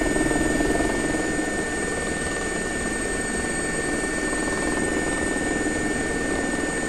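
A steady helicopter engine drone in the X-Plane 11 flight simulator, air ambulance helicopter, with rotor thrum and a high whine, loud and continuous, holding at constant power throughout.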